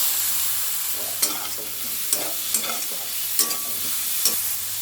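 Onion, pumpkin and tomato frying in a pan, a constant close sizzle broken by regular scraping stirs of a spatula, about one stroke every second, with no voices.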